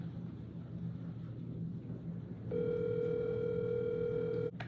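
Ringback on an outgoing phone call: a low rumbling line hiss gives way to a steady, sustained ringing tone partway through that runs alone until it cuts off sharply.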